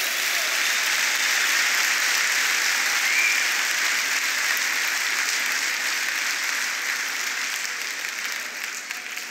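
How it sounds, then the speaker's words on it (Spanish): A church congregation gives a loud, sustained round of applause at a worship service, dense clapping that holds steady for several seconds and then begins to thin out toward the end. "Le damos un fuerte aplauso al Rey de Reyes."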